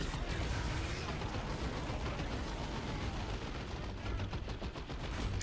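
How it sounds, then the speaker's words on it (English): A machine gun rattles continuously in the video game Dawn of War 2, with a dense, loud stream of rapid shots and heavy battle noise for the whole stretch. "I just got this machine gun. Machine gunning stuff."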